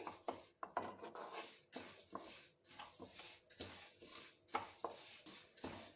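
Flax seeds dry roasting in a pan sound as faint, irregular scraping and clinking as a utensil stirs them, with soft taps and rustles repeating over several seconds.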